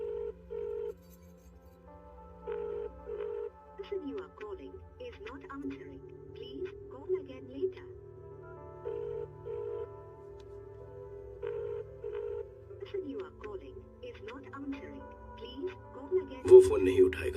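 A telephone rings repeatedly in a steady on-off pattern with no answer, while quiet background sounds and faint talk continue underneath.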